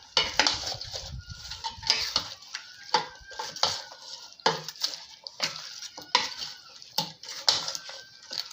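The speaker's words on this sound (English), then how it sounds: "Then I'll mix it together." Metal utensils scrape and clink against a pot in irregular bursts as chicken pepper soup with onions is stirred, close by, with faint animal calls in the background.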